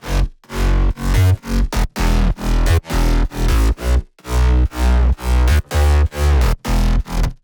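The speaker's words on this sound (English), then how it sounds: "So with the bass, it sounds like this." A future house drop built from punchy brass stabs over a heavy bass, hitting in loud, evenly spaced pumping bursts with brief gaps between them and no talking.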